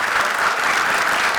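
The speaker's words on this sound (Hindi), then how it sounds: "जोरदार तालियां कृष्णा और सुदेश के लिए।" A short burst of dense, steady audience applause on a televised comedy show, loud and continuous with no speech over it.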